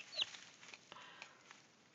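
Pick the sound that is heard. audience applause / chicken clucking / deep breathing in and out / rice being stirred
chicken clucking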